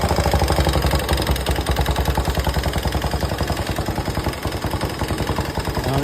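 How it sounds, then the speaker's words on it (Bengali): A Suzuki SF car engine with a faulty sound runs at a steady idle, close and loud, with a rhythmic knocking clatter pulsing throughout and no talk. "এই গাড়িটার প্রবলেম ইঞ্জিনের সাউন্ড।"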